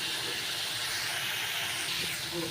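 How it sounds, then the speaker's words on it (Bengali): Sliced potatoes frying in hot oil seasoned with black cumin seeds for a spicy tilapia fish curry, giving a steady loud sizzling hiss close by without pause. "মাছ ভাজা হয়ে গেছে দিয়ে কালো জিরে ফোড়ন দিয়ে এবার আলুগুলো ভেজে নেব"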